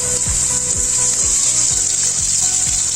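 Chopped boiled potato tipped into a hot oiled pan for aloo palak, giving a loud, steady sizzle with a few soft thumps and stirring scrapes repeating about every half second, with no talking.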